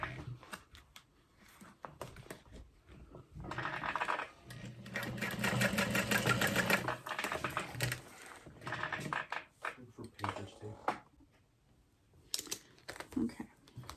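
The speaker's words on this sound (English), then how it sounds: "I'm gonna fold my gusset up and out of the way while I sew down the connector to the stabilizing fabric" Sewing machine stitching a connector down onto stabilizing fabric, a quiet rapid mechanical whirring that starts, runs steadily for several seconds, then slows into short bursts and clicks.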